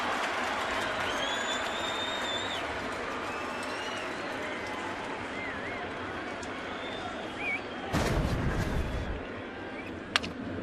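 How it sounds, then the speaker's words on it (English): Baseball stadium crowd at a New York Yankees home game against Seattle, a steady broad roar of cheering and applause with scattered whistles, swelling briefly louder near the end. "the crowd cheers as Overbay is given first base"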